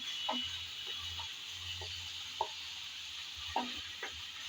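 Belt fish curry stirred in a pan, with a faint background sizzle broken by several soft, scattered scrapes and taps of a spoon against the pan.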